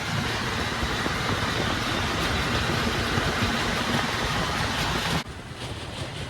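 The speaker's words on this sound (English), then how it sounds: "So now I'm here on the tractor for the first time." A loud tractor engine, pulling an empty trailer, roars close by, rough and continuous, then drops off abruptly just before the end.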